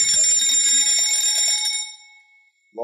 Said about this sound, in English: we're going to have the bell go off